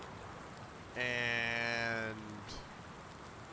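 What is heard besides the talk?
heavy rain pouring outside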